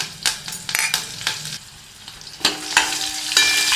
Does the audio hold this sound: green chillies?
yes